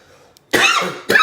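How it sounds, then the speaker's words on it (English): Two harsh coughs close to the mic, the first longer and raspy, the second short and sharp, with quiet before them. "That's just a cough."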